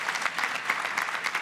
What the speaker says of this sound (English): I need more applause on that